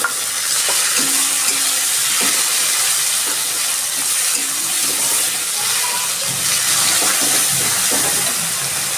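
Chopped tomato goes into a pan of fried onions, setting off a loud, steady sizzle with occasional stirring scrapes throughout.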